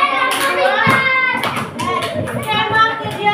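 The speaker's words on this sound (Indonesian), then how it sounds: "tepuk tangan untuk kelompok." Children in a classroom clap to applaud a group after its presentation, a scattered burst of hand claps mixed with a teacher's voice and kids' chatter.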